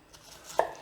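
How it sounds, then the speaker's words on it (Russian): A knife makes a single sharp chop through a small peeled onion on a cutting board, close and clear against a quiet kitchen background. "Я должен мелко пошинковать лук."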